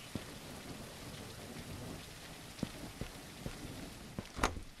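Rain and thunder in the Sammy Jukes Twin Lakes game, a steady hiss of rainfall with scattered drop taps and a low rumbling crack near the end, fairly quiet throughout.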